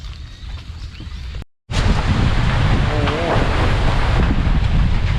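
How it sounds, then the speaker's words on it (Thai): Strong dry wind gusting ahead of rain over open farmland near Khon Kaen, a steady loud rush after a brief dropout, with a voice briefly audible underneath. "ลมกำลังมาฝนกำลังติดตก"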